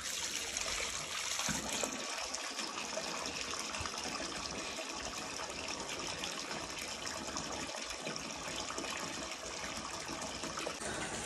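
Water flows steadily into small dug pits in the ground, a soft continuous trickle and gush heard faintly without any voices.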